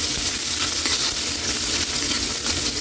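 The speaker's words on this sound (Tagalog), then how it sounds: "Lagay na natin yung bawang, sibuyas." Ginger, garlic and onion sautéing in a pan, a steady close hiss of frying oil with faint stirring scrapes, continuous and fairly loud with no talk.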